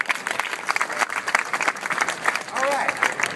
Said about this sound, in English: How about a round of applause for this wonderful couple?